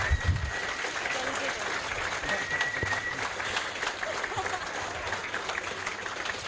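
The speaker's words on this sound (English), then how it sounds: "Can we get a big round of applause from them again?" Applause for a panel at SoT Fest, a Sea of Thieves fan event, fills the room as a continuous patter of clapping from the audience, fairly even and moderately loud, with some voices and shuffling mixed into the crowd noise.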